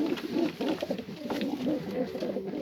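Pigeons in a coop in Adana give a continuous soft, throaty cooing, several birds overlapping close by, with no talk.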